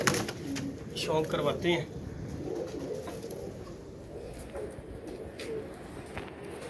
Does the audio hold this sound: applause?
no